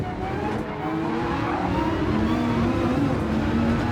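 A Viper race car in a racing video game accelerates hard in fifth gear during a drag race, its engine drone rising steadily in pitch, loud and continuous throughout.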